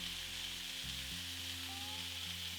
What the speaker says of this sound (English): Let sear undisturbed for about a minute or so, or until it's nicely browned.